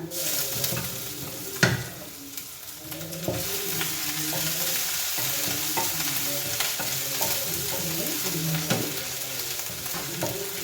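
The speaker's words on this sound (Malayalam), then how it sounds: "നമുക്ക് ഇഞ്ചി ചതച്ചതിടാം" Crushed ginger sizzles and crackles in hot oil in a pan for an okra masala curry, a steady frying hiss with occasional stirring scrapes.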